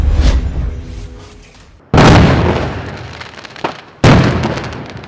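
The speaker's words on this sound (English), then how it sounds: "a large explosion occurred at a house in the 13500 block of Remington Street, Pacoima, Los Angeles, causing a partial collapse of the structure." A large house explosion in Pacoima, Los Angeles, partially collapsing the structure: deep booming blasts hit sharply at the start, again near two seconds and once more near four seconds, each decaying into rumbling debris noise.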